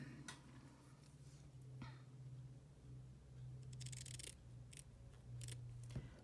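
Scissors snip through handfuls of paper craft tags with quiet, close, crisp cuts at an irregular pace over a low, constant background hum.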